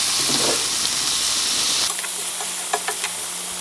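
Garlic and vegetables sauté in a single pan for keto jalapeño chicken, a loud close hiss and sizzle that shifts midway with a few light stirring clicks.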